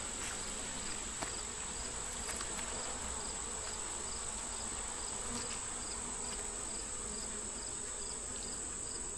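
Bees buzz inside stacked hive boxes with a faint, steady drone, alongside a high constant insect whine and a few soft ticks, distant and quiet throughout.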